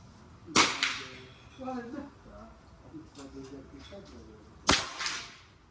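Two sharp, loud cracks from a Hatsan Sniper Factor L air rifle at a shooting range, about four seconds apart, with someone talking quietly in between.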